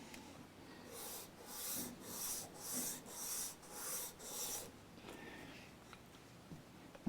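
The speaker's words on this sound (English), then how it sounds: "It's a little bit of sanding required to get these two parts nice and flush with each other on this front edge" Sandpaper rasps across the front edge of a semi-hollow 335-style electric guitar, six rhythmic back-and-forth strokes close to the mic, then a quiet pause with faint handling.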